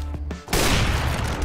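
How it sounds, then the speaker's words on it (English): Gunfire from Counter-Strike: Global Offensive, shots fired through smoke in a competitive match. A sudden loud burst cuts in and stays dense and sustained to the end. Only quiet low tones come before it. "Oh, that shot through the smoke!"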